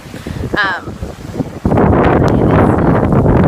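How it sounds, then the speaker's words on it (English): Strong hurricane wind with light rain roars and buffets the microphone, building to a loud, steady rush after a brief calmer stretch with a voice underneath. "As you can tell, it's still really windy."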